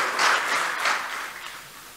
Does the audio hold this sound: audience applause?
yes